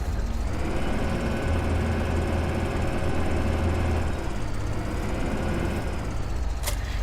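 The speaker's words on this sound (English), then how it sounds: "I think we'll go for the JCB again. I love this tractor" JCB tractor engine in Farming Simulator 2015, a steady, close diesel drone with a low rumbling throb that holds at an even level throughout, with no talking.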